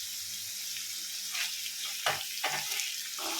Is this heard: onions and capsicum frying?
yes